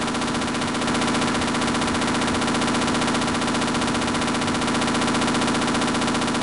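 A mounted turret fires a continuous, loud, dense stream of automatic rounds in the Half-Life PC game, holding steady for several seconds with no pauses.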